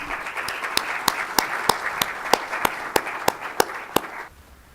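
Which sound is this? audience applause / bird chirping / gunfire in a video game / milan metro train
audience applause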